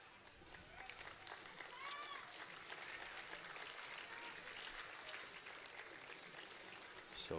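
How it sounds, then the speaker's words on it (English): A college baseball crowd at Wake Forest versus Miami applauds in the rain, a moderate, steady spatter of distant clapping that runs throughout with faint crowd noise. "So Fisher gets a round of applause."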